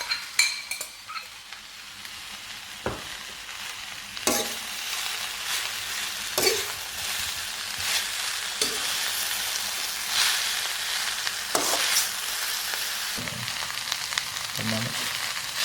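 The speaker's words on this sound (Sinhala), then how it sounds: "මේක දැන් නූඩ්ල්ස් ටිකක් හොඳට බැදීගෙන එනවා" Noodles for mie goreng sizzle and fry steadily in a pan, with repeated scraping and stirring clatters cutting through the continuous hiss, close up and without speech.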